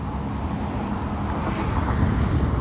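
Steady street traffic rumbles near 120th St and Crenshaw Blvd in Hawthorne by the airport, a continuous low roar of passing vehicles that builds slightly and stays fairly close throughout.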